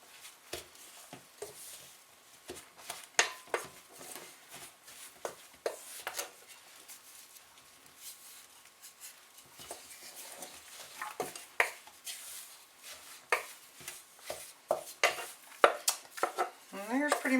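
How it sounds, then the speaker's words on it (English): Crust ingredients for a lemon lush dessert being mixed by hand in a bowl: irregular scraping, clinking and tapping of a utensil against the dish, moderately close, growing busier toward the end. "So now we are going to mix that all up."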